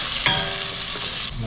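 Onion and garlic frying in hot oil in a pan, a loud, close, continuous sizzle with a brief stirring clatter, heard alone.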